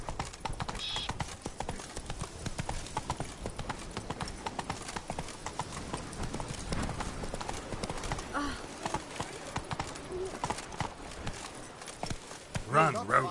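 Roach, a horse in The Witcher III: Blood and Wine, gallops with rapid rhythmic hoofbeats on the ground throughout, accompanied by occasional game sounds and a person talking over it.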